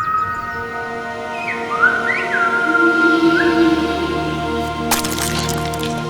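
Silbo Gomero, the whistled language of La Gomera in the Canary Islands, heard as a clear, loud whistled phrase of gliding pitch contours, followed by a sharp crack near the end.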